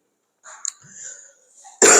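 A single loud, harsh cough bursts out near the end, after a stretch of quiet breathy throat sounds.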